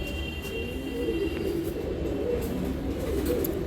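A loft full of pigeons gives off continuous low cooing, a dense burbling murmur held steady throughout with faint rustles and no voices.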